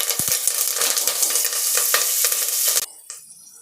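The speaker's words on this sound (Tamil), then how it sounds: "கருவேப்பிலை பொரிஞ்சதும்" Curry leaves splutter in hot oil with cinnamon and cloves for a spicy mutton gravy: loud, dense crackling and popping up close that cuts off abruptly near the end.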